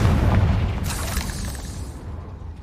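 A Confringo fire spell in a Hogwarts video game bursts with a loud, deep boom, followed by a crackling blast that slowly fades over a couple of seconds.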